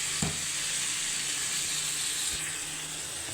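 Liver frying in a pan gives a close, continuous, even sizzle with a crackle or two near the start, heard alone with no talking.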